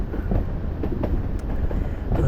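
The Durango to Silverton train rolls along, its locomotive pulling passenger cars with a constant close low rumble and light rhythmic clatter from the wheels and carriages.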